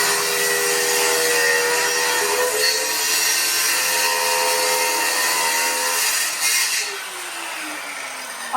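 A power tool cuts through a wooden door in a kitchen corridor, a steady loud buzzing and rasping that runs on continuously for several seconds before the pitch drops as the cut winds down, with no talking.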